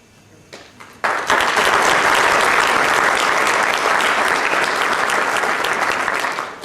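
Sudden loud applause from a large audience at a mayoral candidate forum, starting abruptly and holding as a dense, sustained roar of clapping that fades slightly at the end.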